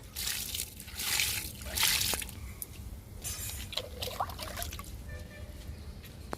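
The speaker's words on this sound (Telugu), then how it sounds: "వేపాకు లిక్విడ్ని ఫస్ట్ పండ్ల మొక్కలకి ఇచ్చేద్దాము" Neem leaf liquid is poured onto fruit plants outdoors, making a soft trickling splash that swells in short bursts and then settles into a steady, faint dribble.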